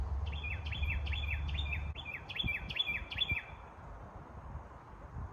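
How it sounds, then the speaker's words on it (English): A tiny little bird gives a quick run of about seven high, sharp chirps in an even rhythm, close and clear, followed by quieter low rustling and handling noises. "That's a tiny little bird too."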